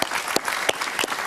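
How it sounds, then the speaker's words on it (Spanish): A studio audience on a Spanish-language talk show applauds to welcome a guest, with a brief burst of close, dense clapping with sharper individual claps standing out. "Un aplauso para Ervin Hoyos, por favor."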